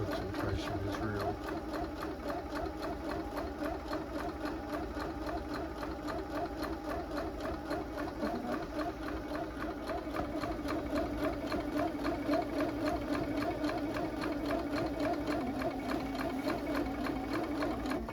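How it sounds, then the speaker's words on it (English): A sewing machine runs steadily while hemming curtains, its close, even whirring and rapid stitching continuing for the whole stretch with only slight shifts in pace. "I've finished hemming each side of the two curtains."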